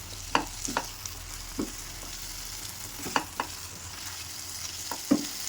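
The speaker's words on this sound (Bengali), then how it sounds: "এই তিনটেকে দিয়ে খুব ভালোভাবে আরও মিনিট 5 কষাবো।" Turmeric, red chilli and Kashmiri chilli powder being sautéed in a pan while cooking pabda fish curry, with a few scattered spoon scrapes and clinks over a low, steady sizzle, close and fairly quiet, no voices.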